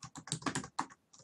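Typing on a computer keyboard while coding a Java game's health bar, with a quick run of close, crisp key clicks in short bursts, a brief pause near the end, then a few more taps.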